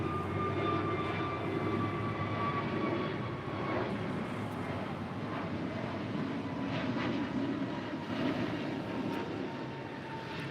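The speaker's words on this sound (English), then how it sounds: "1301 departing to Seattle on an A321neo in the More to Love livery" An Alaska Airlines A321neo jet departs Los Angeles airport, its engines a sustained distant roar with a thin whine on top, holding steady throughout with no talk over it.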